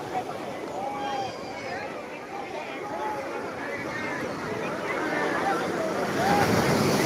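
Sea waves wash onto Digha beach, crowded with holiday bathers, in a steady roar with gusty wind on the microphone and a murmur of many voices calling and chattering nearby.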